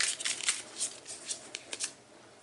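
Tarot cards riffled and drawn from a deck in a series of crisp, close papery flicks and snaps, bunched at first, then spaced out and fading toward the end, with no voices.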